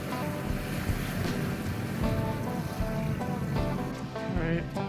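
Waves wash steadily onto the beach at Cancun in a continuous broad roar, with wind buffeting the microphone throughout and no clear voices.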